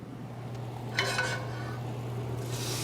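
Mushrooms sizzling in oil in a hot pan, a steady close crackle with a brief scrape of stirring and a rising hiss near the end, no talking.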